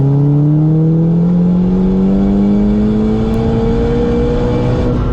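A tuned 2008 Seat Leon Cupra K1 at Stage 2 accelerates hard, its engine note climbing steadily and loud from close inside the car with no talk.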